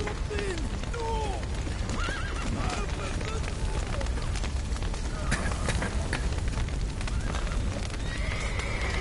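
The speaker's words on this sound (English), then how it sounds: "The horses!" Horses neighing and galloping in the video game Dark Souls, several shrill whinnies over pounding hooves and a crackling fire-like roar, with voices shouting amid the chaos.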